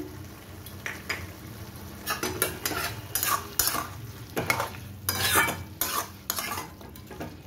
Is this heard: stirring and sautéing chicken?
yes